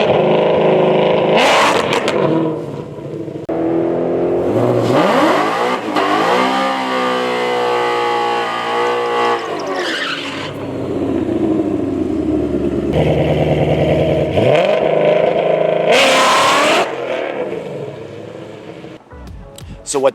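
A 2020 Ford Shelby GT500 drag car engine revs loudly and rises through the gears on a run, with sharp roaring pulls, brief lulls and short bursts of higher-pitched noise along the way.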